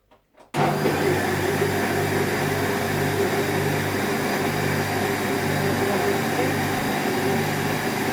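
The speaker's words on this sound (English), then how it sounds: "just give it another whisk then, shall we?" Pancake batter being whisked in a home kitchen, a steady continuous mechanical whirr from an electric whisk running loud and unbroken after a brief start, with no talk over it.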